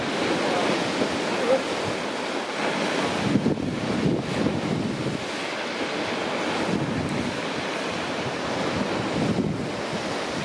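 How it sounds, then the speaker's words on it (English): Cool breeze buffets a seaside headland above a beach at the Great Orme nature reserve, with steady wind rush and surf washing continuously, loud and close, with brief gusty dips and no voices. "It's quite cool and breezy"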